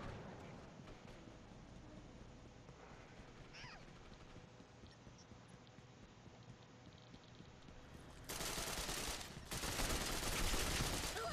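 Rapid automatic gunfire from a gun in the Gotham City Impostors shooter game, a dense sustained burst that swells loudly in the final few seconds over a busy, noisy combat background.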